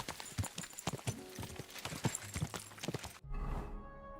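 Galloping horse hooves in Kingdom Come: Deliverance 2, a fast, rhythmic run of loud, close hoofbeats that stops abruptly and gives way to a low rumble.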